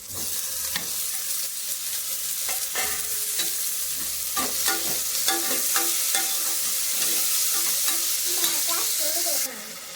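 Spices and onion sputtering and frying in hot oil for a South Indian tempering, a steady crackling sizzle with stirring scrapes running throughout, close and fairly loud, with no talking.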